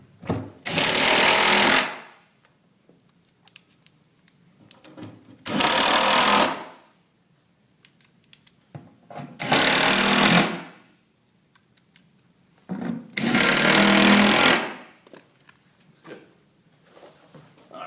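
A power driver drives screws into a base cabinet during assembly, four loud whirring bursts of about one to two seconds each separated by quiet gaps, close to the listener, with no talk.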